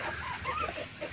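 A black australorp chicken clucking on a backyard farm, soft broken clucks coming at close range over faint background noise.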